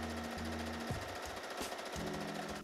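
Sewing machine stitching down the slit of an organza and satin prom dress, a short, quiet burst of rapid needle clatter with a brief stop and restart.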